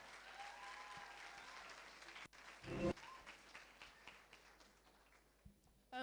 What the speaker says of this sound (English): Round of applause as she joins us.